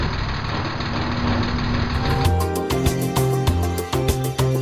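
A car engine on ordinary lubricant runs loudly and steadily, a dense, rough drone that shifts into a rhythmic pulsing idle with repeated knocking beats partway through, with no speech.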